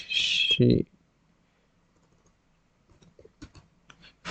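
A short burst of talk, then a pause, followed by a quick cluster of light computer keyboard key clicks close to the microphone.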